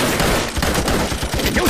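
A war film volley of rifle and machine-gun fire, with dense overlapping shots crackling continuously and loudly with no pauses.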